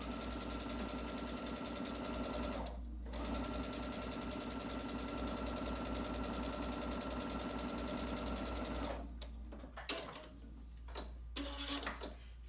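Sewing machine stitching quilt pieces together with a steady, fast mechanical whir. It pauses briefly once, runs on, then breaks into short stop-and-start bursts near the end, heard close with no voices.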